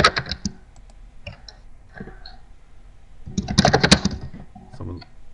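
Sharp clicks from a computer keyboard come through an open microphone on an online call, with a short burst of talking in the middle.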